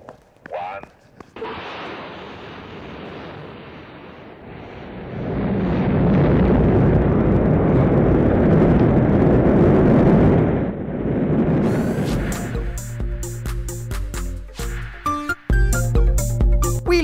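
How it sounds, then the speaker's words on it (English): Cartoon rocket launching into space, a loud sustained roaring blast that swells and holds for several seconds before giving way to music and voices. "No, don't start the rocket."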